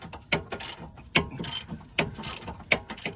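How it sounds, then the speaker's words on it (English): A hand ratchet clicks in short bursts while tightening the bottom nut on a sway bar link of a 2013 Dodge Journey 3.6 SXT, several distinct metallic ratcheting runs spaced about a second apart, close and fairly quiet. "I'm tightening the nut, the bottom nut on the sway bar link"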